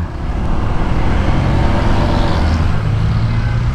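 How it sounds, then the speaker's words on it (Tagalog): Friday road traffic rolls past a rider on a Honda ADV 160 scooter, a loud, continuous rumble of cars and heavier vehicles close by, with a steady engine drone underneath and no break. "Yan lang, Friday traffic."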